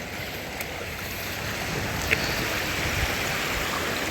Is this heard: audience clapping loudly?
no